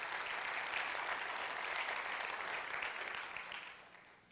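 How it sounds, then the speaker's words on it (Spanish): Congregation applauding during a Sunday sermon in a church, a dense, steady wash of clapping that holds strong before thinning out toward the end. "Dele un aplauso al más grande."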